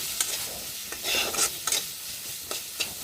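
Ari fish gravy ingredients stir-fried in a pan, with a steady crackling sizzle and several sharp scrapes of a spatula against the metal, close and clear with no voices.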